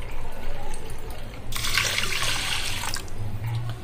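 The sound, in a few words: water poured into pressure cooker with rice and dal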